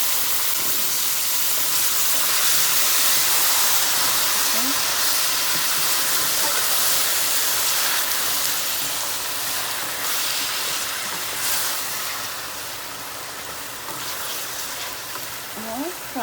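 Okra hits a pan of frying onions and sizzles steadily, a loud, dense hiss that runs throughout with faint stirring scrapes, easing slightly toward the end.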